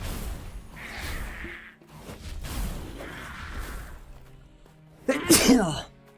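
A person sneezes once, sharp and loud, near the end, after several seconds of quieter muffled voice and background sound during a game session.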